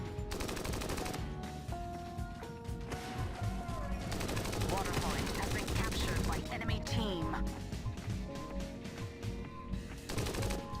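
Rapid bursts of gunfire in the mobile MOBA game PigBang crackle continuously over a dense, busy soundtrack with tonal music running underneath.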